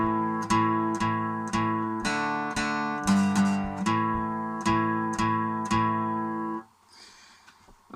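Guitar power chords strum a rhythm, about ten evenly spaced, loud struck chords that ring and decay, ending in a quiet fade with faint room noise.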